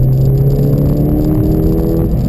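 Ford Fiesta ST200 engine held at a loud, steady rev on the throttle, a dense close-up drone with no voices.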